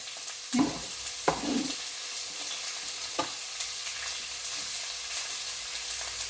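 Chopped carrots and beans tossed into a hot pan for egg fried rice, with loud spatula scrapes and clatters near the start, then a few lighter strokes over a constant sizzle.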